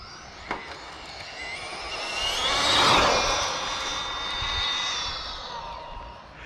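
An Arrma Infraction 1/8 4x4 3S brushless RC truck with high-speed gearing winds its electric motor up to a loud, rising whine at full throttle, then drops off as full brake is applied, close by.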